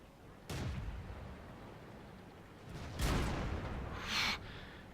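Tank guns firing in the online game World of Tanks, three heavy booming shots spaced a second or two apart, each a dull blast with a rumbling tail, fairly distant and muffled.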